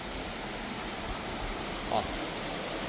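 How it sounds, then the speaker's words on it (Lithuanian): Steady broadband rush of water running down from the hills through Mill Glen in Tillicoultry, continuous and fairly close, with no pauses or voices. "vanduo bėga iš kalnų"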